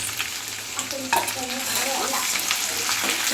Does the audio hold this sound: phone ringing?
no